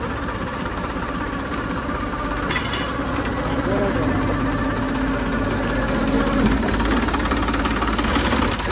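A farm tractor's engine idles nearby with a steady, rumbling drone and faint mechanical rattle throughout.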